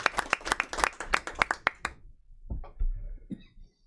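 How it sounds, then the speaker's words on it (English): A small audience at a county board meeting claps for about two seconds, a brief round of sharp, close hand claps that quickly dies away into scattered rustling and quiet room noise. "I'd still like to give him a round of applause."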